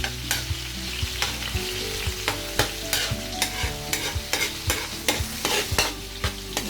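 Garlic and ginger sauté in a pan with a constant sizzle, punctuated by repeated sharp clanks and scrapes of a utensil stirring against the metal, close up.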